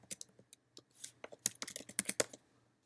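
Quiet, close keyboard typing on a computer, a quick irregular patter of key clicks that speeds into a dense burst before stopping.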